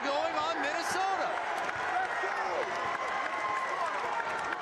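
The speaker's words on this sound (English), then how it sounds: "this entire crowd now outside of Minnesota fans are cheering on Alabama" Basketball arena crowd cheering for Alabama in a close college game against Minnesota, a steady dense roar filling the space with shoe squeaks and a commentator talking over it.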